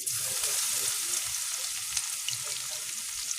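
Garlic, garam masala, cardamom and dried chilli fry in hot oil with a dense, steady sizzle that holds evenly throughout, close and fairly loud, with no voices.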